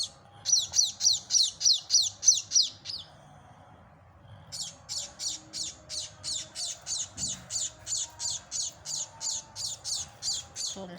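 Baby emprot birds chirp in rapid rhythmic bursts of high, repeated tweets, one brief series, a short pause, then a longer steady run of calls, close and clear over faint background noise.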